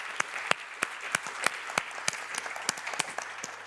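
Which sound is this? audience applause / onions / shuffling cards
audience applause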